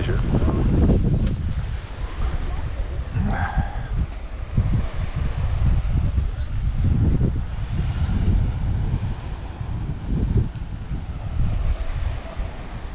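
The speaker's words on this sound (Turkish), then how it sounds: "esinti de neredeyse her daim oluyor" Wind gusts buffet the microphone on a coastal cliff at Kerpe, a loud, rumbling low roar that swells and eases continuously.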